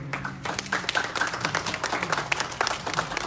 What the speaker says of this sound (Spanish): le pido un aplauso a nuestro diputado